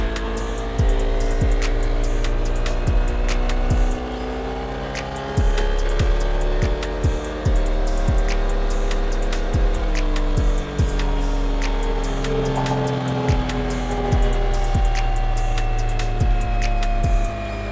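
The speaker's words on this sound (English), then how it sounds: "So we have the Click 160 on the dyno" A Honda Click 160 scooter engine runs steadily on a dyno, a loud continuous drone with rising and falling pitch and repeated sharp clicking transients throughout.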